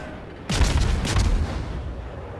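A warship's main guns fire in World of Warships, a single sharp heavy boom followed by a rumbling, decaying tail.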